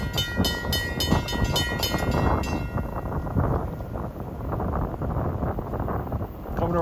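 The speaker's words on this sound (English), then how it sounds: "9:27 approaching is train 1708 from Suffern to Hoboken" Passenger train 1708 from Suffern to Hoboken approaching around Collins Curve with double-decker cars, opening with loud horn blasts, then a heavy, continuous rumble of wheels and cars close by, with wind buffeting the microphone.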